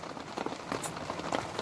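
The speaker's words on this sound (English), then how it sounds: "It's raining as well, guys." Rain patters steadily on a tent during wild camping in wet weather, a soft, even hiss of drops with occasional louder taps, close and without talk.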